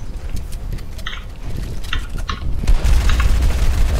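Gunfire crackles in a console shooter game, with bursts of rapid shots and heavy booms layered together, loud and close, building into a denser volley toward the end.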